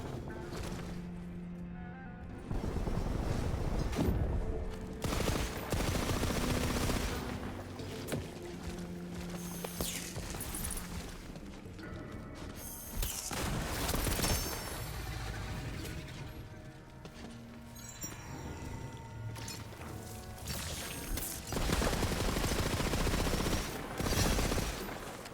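Weapon fire from the Bonecarver in Destiny comes as repeated bursts of sharp shots and mechanical clatter, broken by short quieter pauses.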